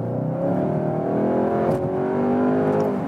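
A 2021 Skoda Octavia RS with a 245 hp TSI engine accelerates hard on the motorway, its engine note climbing steadily under loud, continuous road and wind noise heard from inside the car.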